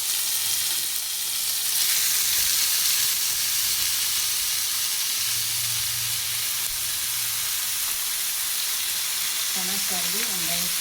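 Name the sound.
mutton being added to a pan and frying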